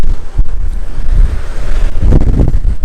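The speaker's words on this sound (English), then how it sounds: "it's pretty windy up here" Strong wind buffeting the microphone on the open top deck of the Majestic Princess cruise ship, loud gusty rumbling that swells and eases, with sea and ship noise beneath.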